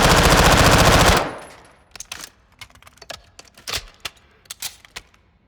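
Loud sustained burst of automatic gunfire from COD MW2 DMZ, about a second long, followed by scattered sharp, distant shots and clicks.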